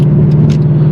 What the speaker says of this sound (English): I'm driving right now to the car